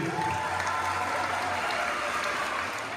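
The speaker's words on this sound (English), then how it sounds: "let's give a big round of applause for these fine young athletes" Crowd applause for young athletes at an inclusive school sports event, steady and dense throughout, with no talk over it.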